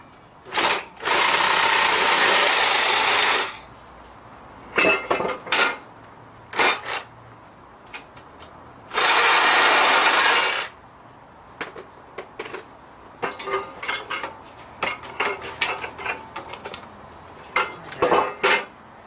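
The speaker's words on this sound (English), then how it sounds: "I got a sawzall to get through where I can get through with the angle grinder." A sawzall reciprocating saw cuts apart a bicycle frame in two long, loud, harsh buzzing runs. Shorter bursts, metallic clanks and rattles of handling fall between them, and no one talks.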